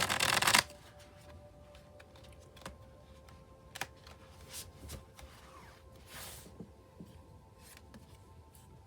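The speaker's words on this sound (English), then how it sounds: "Let me see what the Spellcasting Oracle says for that Transparent Tarot." Oracle cards being shuffled close up, a dense riffle at the start followed by scattered soft taps, slides and card clicks in a quiet room.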